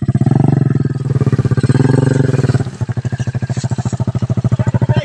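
A motorcycle engine left idling after a farm trail ride, a steady close rumble with a fast regular pulsing throb that holds loud throughout.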